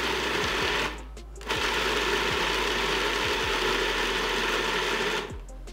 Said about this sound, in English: I'm gonna put the lid on, and I'm just going to blend this up